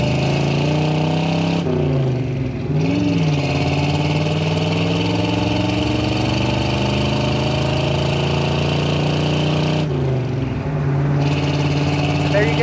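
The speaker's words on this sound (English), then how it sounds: "Exhaust sounds good. Those have aftermarket duals on it." A 1982 Chevrolet K10 truck's 350 V8 idles with a deep, steady rumble through aftermarket dual exhaust, briefly blipping the throttle twice; someone talks over it.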